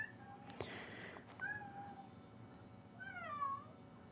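A cat in the video game Genshin Impact gives a couple of short meows, one near the start and a longer rising one near the end, faint over quiet background.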